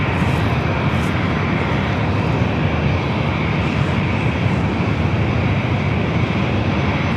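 A United Airbus A321neo airliner at San Diego airport produces a steady, loud roar of jet engines with broad rushing noise, sustained and unchanging, with no voices.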